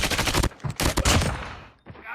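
Bursts of rapid gunfire in a shooter video game, loud and close, several clipped volleys with short gaps between them.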